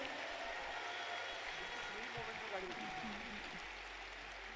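An audience at a company talk applauds for the core team. The steady clapping fills the clip, with a speaking voice faintly beneath it.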